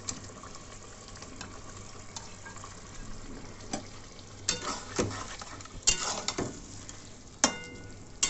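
Chital fish dumplings hissing and sizzling in a pan of oil, with a steady low fry broken by louder scraping stirs and clinks of the spatula toward the end, close by with no talking.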